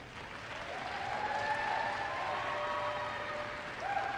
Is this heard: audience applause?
yes